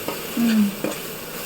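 Ginger, onion paste and coriander fry in oil in a pan for a fish curry, with a short stir and a soft sizzle, heard close and alone.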